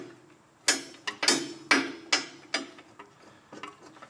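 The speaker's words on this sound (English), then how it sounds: "obviously you're doing this with a wrench, but 2 bolts, and then you slide the caliper right off" A wrench works the two brake caliper bolts on a donor Mustang suspension, giving a run of five sharp metallic clanks close up, followed by fainter scattered ticks.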